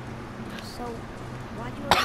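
One short, sharp cough bursts out near the end over a steady bed of quiet video-game background sound.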